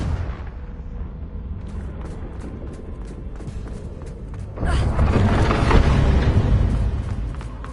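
A Confringo fire spell explodes in the video game Hogwarts Legacy: a sudden loud blast midway through that swells into a sustained roaring rumble and crackle over a low background of game ambience.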